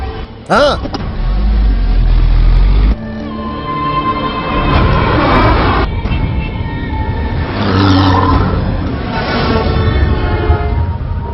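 A car driving in a Tamil action film scene, engine revving and whirring at close range, with a brief sharp sound near the start and people talking over the motor throughout.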